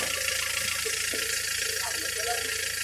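A Kubota L47 tractor runs in a flooded rice field during dry-season planting, a steady close engine drone with metallic rattling and clanking as voices talk over it.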